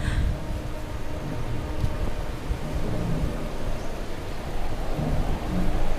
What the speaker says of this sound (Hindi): इस तूफान को आने में तो एक हफ्ता बचा है,